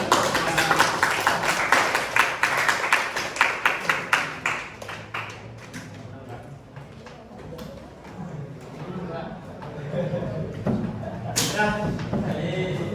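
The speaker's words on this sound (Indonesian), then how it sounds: "Tepuk tangan." Schoolchildren clap together at a school gathering, a quick burst of fairly close hand claps that rises and then gradually thins out, with scattered voices afterward.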